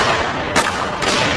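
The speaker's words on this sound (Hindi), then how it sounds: "तभी उसे गोली चलने की आवाज सुनी।" Gunshot effect in an animated Hindi story: two sharp broadband cracks about half a second apart ring out over a dense, noisy background, with no speech.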